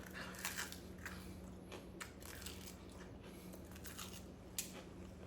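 Crisp crunching bites and chewing of deep-fried baby back ribs, close and quiet, with a few sharper crackles spaced irregularly over a faint background hum.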